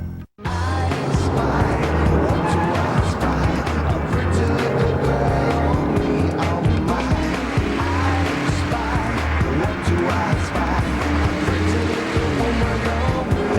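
Chrysler cars racing, engines roaring steadily with repeated tire squeals and skids, loud and close, continuous for the whole stretch after a brief silent start.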